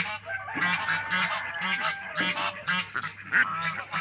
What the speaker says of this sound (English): Obviously you hear a couple of roosters crowing, a couple different ones, a couple of geese, a couple of ducks quacking.